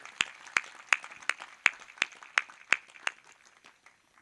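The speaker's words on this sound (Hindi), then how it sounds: "एक जोरदार तालियां बजाइए" An audience at a Sahaja Yoga gathering claps in unison, about ten sharp evenly spaced claps that fade out, with no talk over them.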